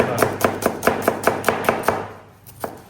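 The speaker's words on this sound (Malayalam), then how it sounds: "സബോള ഫുള്ള് കട്ട് ചെയ്ത് കഴിഞ്ഞോട്ടെ" A knife chops through onions on a board in quick, even strokes, about nine close, crisp thuds in steady rhythm, then a pause and one final chop.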